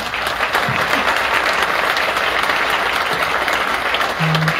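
Loud, full crowd applause at a Hidalgo ceremony unveiling a Pueblos Mágicos lottery ticket, continuous clapping from many hands at steady intensity from start to finish.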